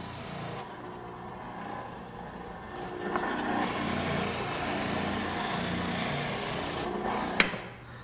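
A steady, continuous abrasive whir of a power sander grinding against wood, held at an even level, with a brief sharp knock near the end.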